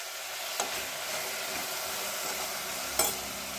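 Jowar rava khichdi base with a spoonful of salt being stirred in a pan, giving a steady soft sizzle with light scraping and two sharper spoon clinks against the pan, close and without talk.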